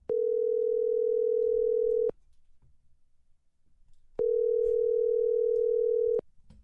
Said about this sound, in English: Let's give him a call right now.